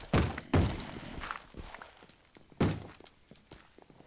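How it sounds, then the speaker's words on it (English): A zombie pounding on a wooden door in Minecraft: three loud, hollow thunks in an uneven rhythm, separated by quieter knocks and shuffling, with no talk. "Is this a zombie breaking a door?"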